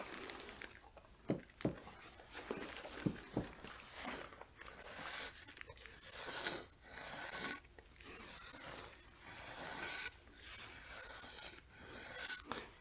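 Rhythmic rasping strokes of a razor being sharpened, steady back-and-forth scrapes repeating about once a second, close and clear.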